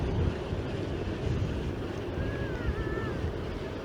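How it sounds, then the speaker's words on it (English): Strong wind buffets the microphone with a low, rumbling roar, gusting unevenly throughout with no talking. "It's very windy"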